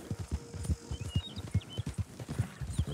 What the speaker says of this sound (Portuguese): Enquanto o cavalo em velocidade.